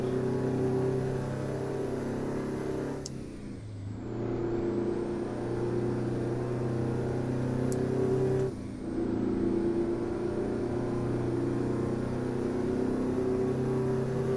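Two-stroke truck engine in American Truck Simulator revving hard and steadily, a loud sustained drone with two brief dips where it drops off and climbs back, no talk.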